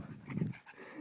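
A dog panting briefly, quick breathy huffs close by and fairly faint.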